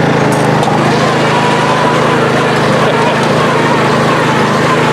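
A small Yard Machines mower engine runs loudly and steadily up close, a buzzing, rattling drone with no pause.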